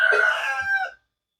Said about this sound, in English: They're frightening the roosters. You hear them?